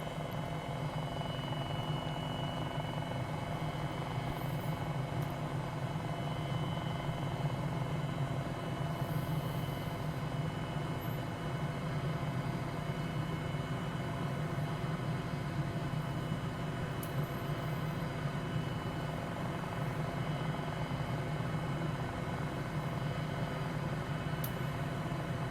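Steady droning rotor and engine noise of a Hughes 500E helicopter in flight throughout, a continuous cabin-like hum with no breaks and no voices.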